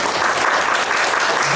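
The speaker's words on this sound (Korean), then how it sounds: "박수 부탁드립니다" Brief audience applause at an indoor SNS promotion training event in Korea, a short burst of steady clapping from a small crowd.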